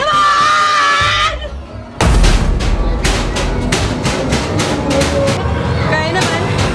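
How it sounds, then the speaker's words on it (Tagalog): Screams ring out inside the Nightmares Manila haunted attraction, loud and sustained at first, then a sudden bang followed by a rapid series of sharp pulsing bursts with clamor beneath. "Bakit ba kayo sumisigaw?"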